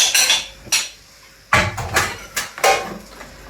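Melted butter, about 200 grams and just warm, is stirred into Belgian waffle batter in a bowl. Sharp utensil clinks and knocks against the bowl come in several separate bursts, close and fairly loud, with no talking.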